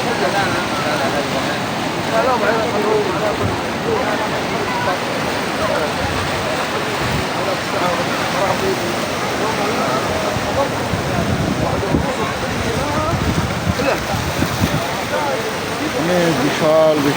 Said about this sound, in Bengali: সাগরের গর্জন কত ভয়ঙ্কর শুনুন বন্ধুরা।